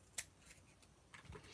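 Scissors cutting paper pieces in half for a Christmas craft, a faint, close snip followed by softer rustling and a second quiet cut, no talking.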